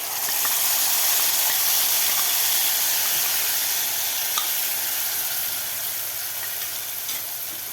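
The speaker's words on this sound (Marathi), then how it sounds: "आता हे मसाले आपल्याला 2 मिनिट चांगले परतून घ्यायचे आहेत।" Soaked spices with cumin sautéing in hot oil, a loud, continuous close sizzle and hiss that fades slightly toward the end, with no voices.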